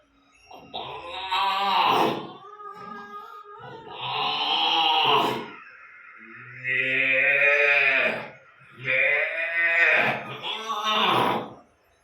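A person imitates cows and calves lowing, with four long drawn-out moos in a row, loud and close, with short gaps between them.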